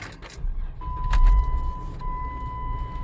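A blade key jingles in the ignition of a Chrysler before the engine turns over and settles into a low, steady idle.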